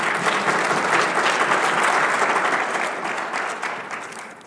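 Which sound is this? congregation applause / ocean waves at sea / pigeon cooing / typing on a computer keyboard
congregation applause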